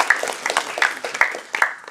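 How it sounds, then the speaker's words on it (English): Scattered applause from the audience at a university computing club's project presentation night, a few hands clapping in uneven bursts, fairly close, with faint voices underneath. "Big round of applause for them tonight."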